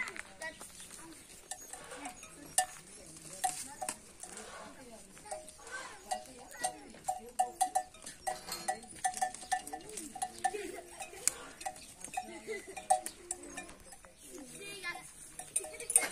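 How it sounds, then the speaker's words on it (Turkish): Sheep and goats in a farm pen, with scattered bleats, clanking bells and shuffling, someone speaking Turkish over the animals throughout. "Burada da koyunlar."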